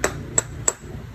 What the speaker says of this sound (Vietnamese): 1 cái búa.